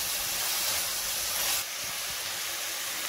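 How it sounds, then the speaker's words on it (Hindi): Rajma masala ingredients, paste and a little ghee, roast in a pan while being stirred, giving a steady loud sizzle and hiss that eases slightly partway through, with no talking. "और इन्हें 2 मिनट के लिए चलाते हुए भून लेंगे।"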